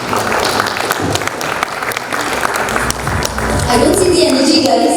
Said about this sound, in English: Request everyone to join in to welcome Captain Dhruv with a huge round of applause